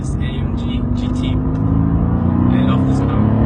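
Mercedes-AMG GT engine droning steadily inside the cabin on the Hockenheim race track, a continuous loud rumble with a voice talking over it.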